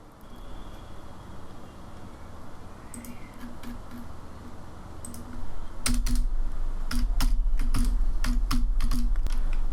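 Computer keyboard typing while coding an Android game in Android Studio, sparse keystrokes at first, then a quicker run of close, crisp clicks over a low steady hum.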